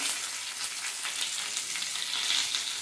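Vermicelli frying in a pan over low gas heat, a steady close sizzle with faint stirring scrapes running through it.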